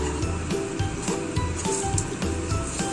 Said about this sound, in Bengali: উল্টে নিয়ে আমি একটু লালচে লালচে করে ভাজছি